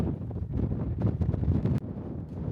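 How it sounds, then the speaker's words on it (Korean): Strong wind gusts across beige desert sand in the American West, a loud, steady roar with buffeting bursts pounding the microphone and a sharp dip near the end. "바람이 정말 많이 불어서 모래가 많이 날린다"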